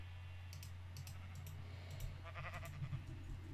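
Sheep in the game Minecraft, a few short quiet bleats over a low steady hum, with light clicking like keyboard taps in the background.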